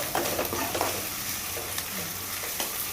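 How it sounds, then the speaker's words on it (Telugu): Ginger garlic paste frying in a pan as it is stirred, a steady close sizzle with scattered scraping clicks from the spoon, heard alone. "పచ్చివాసన పోయే వరకు అల్లం వెల్లుల్లిపాయ పేస్ట్ మనం బాగా ఫ్రై చేసుకోవాలి."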